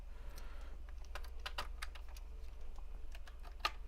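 Keys clatter on a USB computer keyboard plugged into a 2009 Dell-made Alienware machine under repair, irregular taps close by over a low steady hum.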